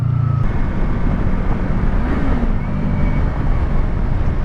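A car engine runs steadily at close range while driving, with a brief pitch rise near the middle as gears are downshifted, over continuous road rumble.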